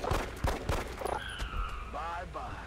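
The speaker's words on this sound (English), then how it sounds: "let's have him climb up to the truck and shoot down with his pistol" Pistol shot fired from high ground in the game XCOM Enemy Within, with several sharp sharp bangs early on followed by whooshing and chirping game effects, fairly loud.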